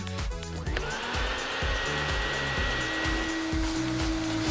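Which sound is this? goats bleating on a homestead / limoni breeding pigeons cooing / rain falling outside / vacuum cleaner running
vacuum cleaner running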